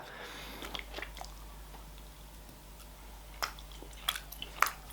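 Soft, moist chewing and biting on orange-flavoured gummy jelly candy, close to the mouth, with a few sharper squishy bites near the end over a low background hum.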